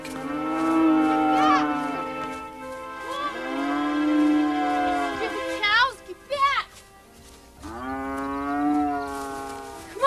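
Cattle low in long, drawn-out moos, several overlapping calls with short gaps between them, loud and near, out on a farm pasture being herded back in.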